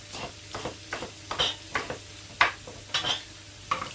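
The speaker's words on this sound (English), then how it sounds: "Rough got some spring onions just for flavor. Throw it in the oil." Spring onions sizzle in hot oil in a pan, a soft frying hiss under a series of distinct stirring clinks and scrapes at an uneven rhythm, close and fairly loud.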